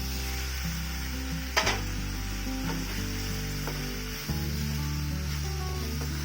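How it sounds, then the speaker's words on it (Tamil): Boiled macaroni with vegetables and tomato ketchup being stirred and sautéed in a pan, giving a steady sizzle with occasional stirring scrapes over a constant low hum. "நல்லா எல்லா இடத்துலையும் படுற மாதிரி நல்லா வதக்கிக்கலாம்"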